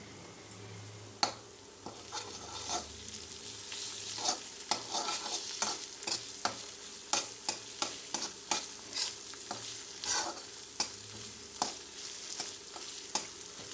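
Ginger garlic paste sizzles in a pan with curry leaves while a spoon scrapes and stirs it, each stir making a sharp, rhythmic tap over the steady frying hiss, close and quiet, with no talk.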